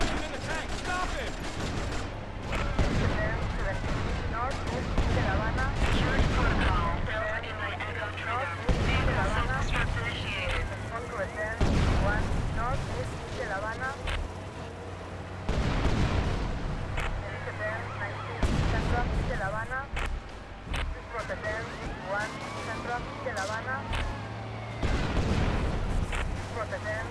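Gunfire and explosions in Grand Theft Auto Vice City, repeated heavy booms and rattling shots every few seconds, loud and close, over constant background din and frequent voices talking.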